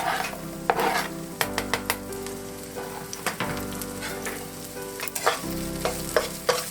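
Minced garlic for goulash pasta frying in a pan, giving a close, continuous crackling sizzle with sharp spattering pops scattered throughout, no voices.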